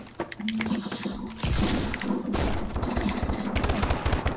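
Bursts of gunfire from the shooter game Call of Duty: Advanced Warfare, rapid crackling shots in clusters with a brief heavy burst midway, set against a steady in-game hum and tones.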